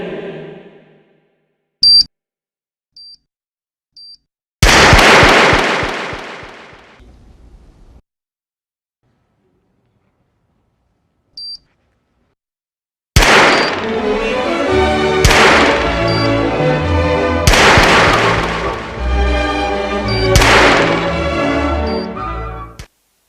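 Gunfire in an ESL India Premiership 2017 esports match: after a few faint beeps, a loud boom, then a run of heavy repeated blasts with ringing tails, intermittent and close.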